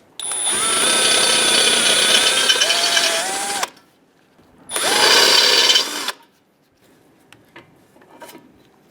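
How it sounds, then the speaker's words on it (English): A power drill drilling out rivets on a Toyota Tacoma bumper impact bar bracket whines loudly in two bursts, a long one then a shorter one, followed by faint clicks and taps of metal parts. "We're going to drill out the rivets for the 2 brackets on the back of the impact bar."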